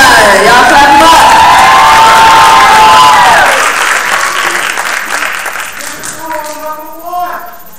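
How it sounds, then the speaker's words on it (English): Audience members at a youth poetry slam clap and cheer loudly for a contestant, with whoops rising over the applause before it thins and fades, and a voice speaks near the end. "Y'all clap him up."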